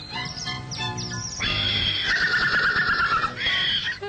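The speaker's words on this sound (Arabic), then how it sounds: "لقد كان حصانا بريا جدا صعب القيادة." A cartoon wild horse neighs and whinnies loudly in a long, wavering call, following a busy stretch of clattering cartoon sounds and music.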